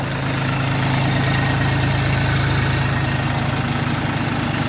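An Orion RD244 tractor engine idles close by with a loud, steady low rumble and an even pulsing throb that never lets up.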